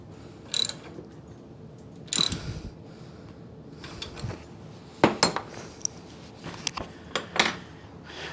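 Sharp metallic clicks and clanks come as a wrench tightens a part on a 1Up bike rack tray being set up for a fat bike, in scattered bursts with pauses between them.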